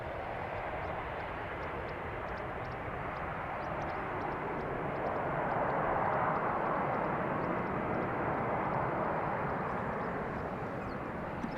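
A Vueling Airbus A320 jet departs Schiphol runway 36L with a steady, broad engine roar that swells slightly in the middle, distant and moderately faint throughout.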